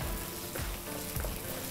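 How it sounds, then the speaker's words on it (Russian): Farfalle pasta sizzling in a frying pan as leftover water evaporates, a steady soft hiss and crackle with faint stirring, no talk. "После того, как мы переложили наши фарфали в сковороду, у нас пару столовых ложек точно воды попало в сковороду, и нам нужно ее выпарить."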